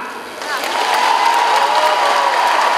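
Standing ovation of pupils, parents and teachers at a Chernihiv school's September 1 assembly, as a new headmistress is handed the key: a dense, loud wash of applause and cheering that swells and holds steady, with a sustained tone running through it.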